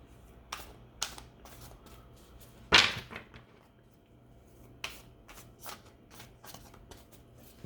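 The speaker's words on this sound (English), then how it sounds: "Let's pull an affirmators card and see what we get from that" Affirmation cards are shuffled and pulled from the deck. Quiet, sharp flicks and snaps come at irregular intervals, with one louder riffle near the middle, in an otherwise quiet room.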